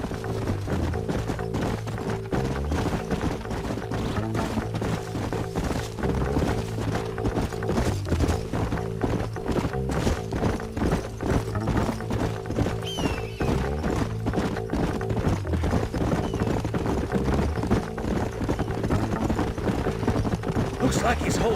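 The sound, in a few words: horses' hooves clip-clopping in the video game Red Dead Redemption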